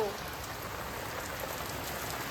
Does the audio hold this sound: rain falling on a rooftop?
yes